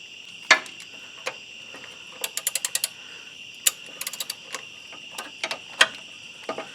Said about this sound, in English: Switch to the ratchet.